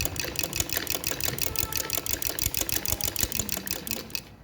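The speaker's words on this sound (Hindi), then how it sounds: "तो बिल्कुल इसको सीधा दरमियान में रख के सिलाई नीचे लेते आना है।" A sewing machine stitches fabric along a neckline with piping, running in a steady, fast mechanical patter for several seconds before stopping, close and with no talk.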